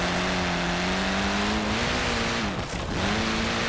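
The Abarth 124 rally car's engine drones loud and close in Forza Horizon 4, holding a steady buzzing pitch that dips sharply as the car brakes for a corner, then climbs again.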